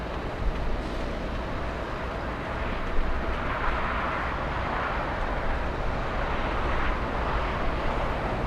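A Lufthansa airliner races down the runway on its takeoff roll at Los Angeles International, a steady broadband jet roar heard from a distance, holding level throughout without any talk.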